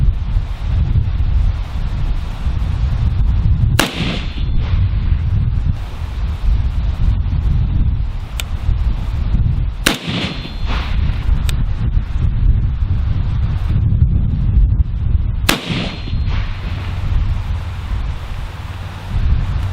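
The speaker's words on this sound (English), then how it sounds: "So let's go ahead and get into the shooting portion" A DPMS G2 Hunter rifle fires three sharp, loud shots spaced several seconds apart outdoors, over steady wind noise buffeting the microphone.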